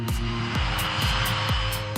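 The engines of a Lockheed L-1011 TriStar jet named Stargazer, carrying a satellite launch rocket, roar with a steady, loud, dense drone and a faint rhythmic pulsing underneath.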